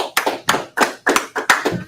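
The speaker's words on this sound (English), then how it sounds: "Clap it up for the sister." Rhythmic hand claps at a Sabbath service, about seven or eight sharp claps in a steady pattern, close and fairly loud with no talking.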